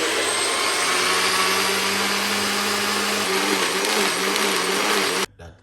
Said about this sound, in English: So we're gonna blend that now, okay? Make a little bit of a noise.